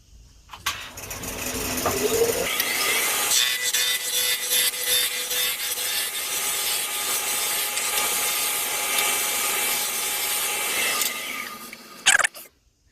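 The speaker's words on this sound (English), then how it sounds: "we're going to turn these corners away and turn this into a cylinder using a spindle roughing gouge" A square wood blank spins on a lathe while a spindle roughing gouge turns its corners into a cylinder, giving a continuous loud, rough, chattering scrape that steadies as the cut smooths, then stops with a couple of knocks.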